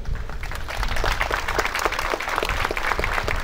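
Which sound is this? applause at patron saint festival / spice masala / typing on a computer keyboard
applause at patron saint festival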